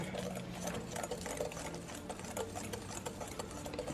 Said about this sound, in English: you want to put your egg whites and your sugar into the bowl, and we're going to whisk it